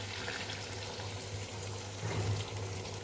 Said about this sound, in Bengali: থালাটা ধুয়ে অল্প করে জল দিয়ে দিচ্ছি।